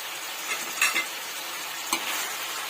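Chicken pieces fry in oil with golden-brown onions, giving a low steady sizzle under a couple of scraping stirs of a spoon against the pan, close and quiet, with no voices.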